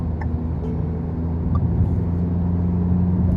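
A 2024 Tata Safari holding 3rd gear in manual mode, heard from inside as a steady low engine drone and road rumble, even and continuous with no speech.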